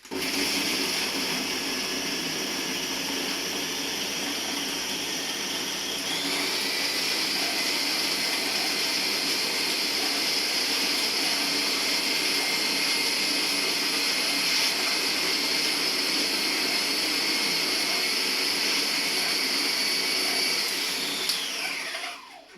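A kitchen blender whirs steadily while mixing a mozzarella mousse, a loud, continuous high-pitched motor drone that shifts pitch slightly after a few seconds and runs for about twenty seconds before cutting off.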